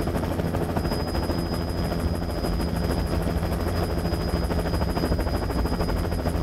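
A helicopter inspecting power lines over the Black Forest: rotor blades thump in a fast, steady rhythm under a loud, continuous engine whine, sustained throughout with no pauses.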